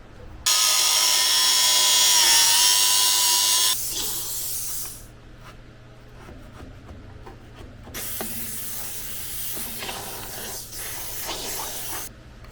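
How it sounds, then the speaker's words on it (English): A small handheld steamer hisses loudly and steadily in bursts while clearing out a wall cavity during a garage back-wall rebuild, with clicks and handling noises between the sprays. "I have the little steamer going, so I'm going to clean out this area"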